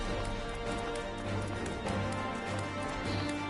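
A porter chocobo runs in Final Fantasy XIV, its quick rhythmic footfalls pattering steadily over a game soundtrack at low volume.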